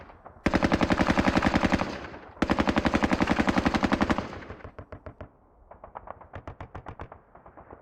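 Machine-gun fire from a WWII tactical game set in an Omaha beach assault: two long, loud rapid bursts, then a fainter stuttering burst and several short bursts.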